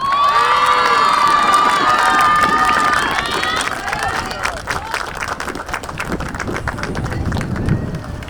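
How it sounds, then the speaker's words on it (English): Spectators at a girls' high school lacrosse senior day cheer and shout loudly, with whistles and applause in a dense, sustained crowd roar that eases slightly over time. "another big round of applause for all of our seniors today"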